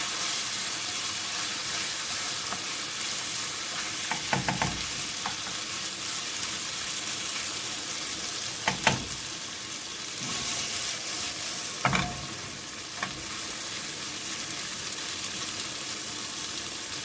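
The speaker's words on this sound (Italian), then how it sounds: "Le verdure hanno rosolato circa 3 minuti, sono quasi pronte." Vegetables sautéing in a pan with lentils and salt added for a Sicilian black lentil dish, giving a continuous even sizzle with a few brief scraping stirs now and then.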